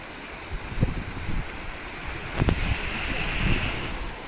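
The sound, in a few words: sea waves crashing on the shore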